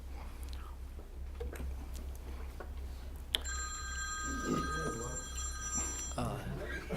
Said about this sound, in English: Turn phone off.